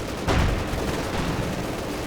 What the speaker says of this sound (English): Taking machine gun fire.